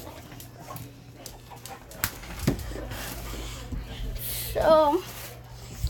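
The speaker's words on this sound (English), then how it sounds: "my dogs are getting all over me" Several dogs crowd close around a person, giving soft whimpers, panting and brief yips, including a rising whine near the end, while a person speaks briefly over them.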